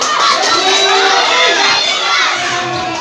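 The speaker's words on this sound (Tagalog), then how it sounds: "Ang ingay, nakakaloka. parang sinisigawan na nila ako." A crowd of children shouts and yells together at once, a loud chaotic din that holds steady throughout.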